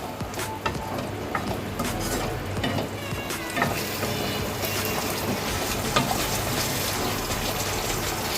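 A pan of sauces for paneer chilli dry being stirred over heat, a steady sizzle and wet swishing with scattered scraping clicks, close and continuous, with no talking.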